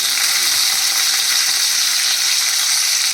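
Capsicum drops into a hot pan of oil and cooked egg chowmein noodles, giving a loud, steady, even sizzle that holds for the whole stretch with no talking.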